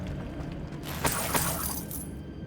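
Depulso spell shattering an object in the video game Hogwarts Legacy, heard as two sharp crackling bursts of breaking debris over a low ambient game bed, followed by a fading scatter.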